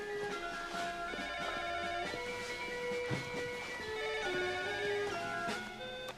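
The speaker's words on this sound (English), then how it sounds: "do you want me to get that phone for you?" Telephone ringing with layered tonal bell chimes that repeat in a steady pattern, fairly faint and continuous with no voices over it.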